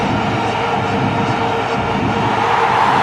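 Big cricket stadium crowd roaring in a steady, loud wall of cheering after a wicket falls in the India v Sri Lanka 2011 World Cup final, the noise sustained and swelling slightly toward the end.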